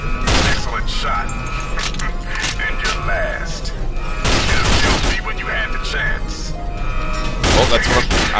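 Rapid bursts of gunfire from the video game James Bond 007: Nightfire, loud and sustained in dense volleys with booming impacts, mixed with game voices talking over the shooting.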